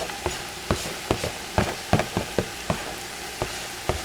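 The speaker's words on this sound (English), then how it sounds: "we're just gonna cook this until the meat is fully cooked through" Ground meat with minced garlic and onion cooking in a pan for chili mac and cheese, a steady soft sizzle broken by sharp scraping stirs at irregular intervals, close and moderately quiet with no talk.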